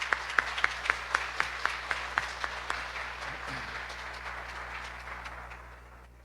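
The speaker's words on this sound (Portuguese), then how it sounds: "Vamos receber com uma calorosa salva de palmas, Cosme Massi." Lecture-hall applause welcomes a speaker: sharp, evenly spaced claps ring out over a softer wash of clapping that gradually fades away, with no talking.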